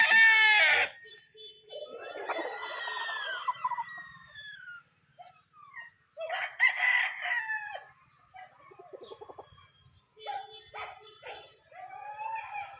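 A White Gold Raptor Sweater gamecock crows repeatedly, loud and close, with other roosters answering farther off, the crowing broken by short gaps and some clucking.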